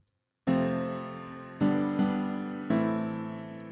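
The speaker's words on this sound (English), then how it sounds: "Now the chorus piano sounds like" Four hard-struck piano chords in a chorus layer of an electronic production track, each ringing bright and full then decaying before the next, played in a slow uneven rhythm, close and loud with no voices.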